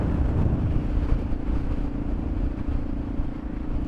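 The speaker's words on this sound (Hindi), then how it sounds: "इतनी तेज हवा आ रही है यूं" Strong wind roars steadily across the microphone while a rider pushes an Xtreme 125R motorcycle along a Ladakh road from Sarchu toward Delhi, heavy continuous buffeting mixed with a low engine hum, no talking.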